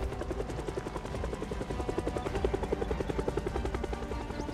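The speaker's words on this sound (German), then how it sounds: "Du kannst da oben so viele Kreise ziehen, wie du willst, Heli." A helicopter circles overhead in the Project Zomboid video game, a steady loud rotor drone with rhythmic blade pulsing that runs throughout without speech.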